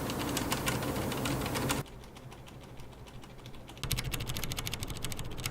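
A bare Cherry MX Brown mechanical key switch with no keycap is pressed over and over, giving loud, close, rapid clacks, with a softer, quieter stretch in the middle.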